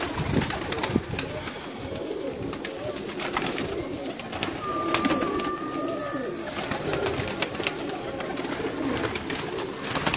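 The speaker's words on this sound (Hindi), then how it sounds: "कबूतर देखो माशाल्लाह मजा आएगा कबूतर देखने दा।" Pigeons coo nearby, soft repeated throaty calls over a busy background of rustling and scattered clicks, with a brief higher whistle-like tone in the middle and faint voices around.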